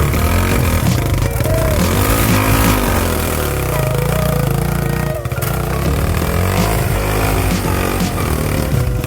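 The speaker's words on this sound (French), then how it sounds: "Avec une moto qui avance pas." A motorcycle engine labours and bogs as it struggles uphill on a dirt path, with a loud, steady, close-up drone that sags and pulls unevenly and dips briefly midway.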